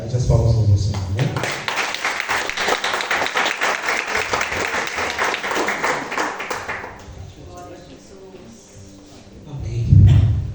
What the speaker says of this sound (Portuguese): As palmas para você.